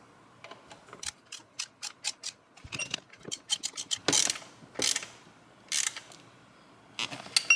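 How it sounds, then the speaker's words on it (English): A ratchet snugs up bolts during a Ferrari major service. Close, crisp bursts of rapid clicking come in short, repeated runs separated by brief pauses, with a few louder strokes toward the end and no talking. "So now I'm gonna snug up the bolts."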